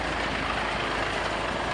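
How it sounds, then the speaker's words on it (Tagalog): A steady, dense truck engine rumble drones without change for the whole short stretch, idling nearby, with no other sounds standing out. "Maingay kasi na dyan yung truck"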